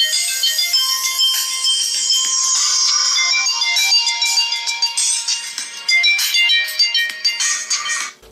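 A quiet melodic phone ringtone plays from the bottom speakers of a Lenovo smartphone, a bright chiming tune in stereo running steadily for about eight seconds alone, with no talk.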